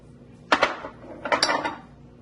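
Garlic tossed into a pot for a shrimp boil with dark beer, landing as two short clattering bursts of clinks and knocks against the pot, close and fairly loud with no talk.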